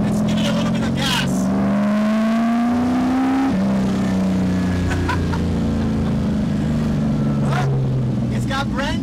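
A 1968 Camaro SS engine is revved, its rising and falling roar steady and loud for several seconds, with a smooth pitch climb and a sudden drop.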